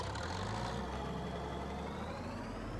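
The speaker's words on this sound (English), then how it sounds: "I'll leave the tractor there for a moment" A tractor engine idles in Farming Simulator 22, a steady low rumble that holds at a constant level throughout with no voices over it.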